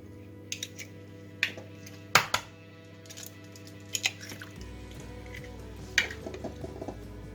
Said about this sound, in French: je casse mes 4 œufs